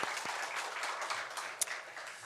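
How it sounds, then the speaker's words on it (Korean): A church congregation at a Korean Sunday worship service applauds with steady, moderately distant clapping that fills the whole short moment. "우리 하나님께 영광의 박수 올려드리겠습니다."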